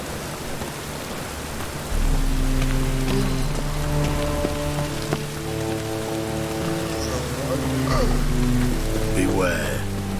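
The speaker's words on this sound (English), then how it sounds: "I like rain. Keeps the rogues indoors." Rain in the video game The Witcher 3: Wild Hunt, a steady hiss of drops on the ground that swells louder partway through, with low sustained game music tones underneath.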